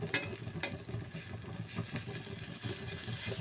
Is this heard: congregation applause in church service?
no